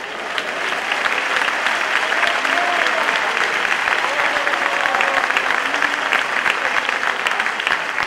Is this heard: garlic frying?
no